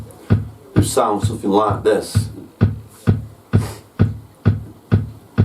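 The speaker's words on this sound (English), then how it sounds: "Now in a pattern, just like the old drum machines, they would sound something like" A Roland TR-909 drum machine runs a preset pattern of steady, evenly spaced kick and hat hits, looping in a crisp mechanical rhythm after a brief spoken voice at the start.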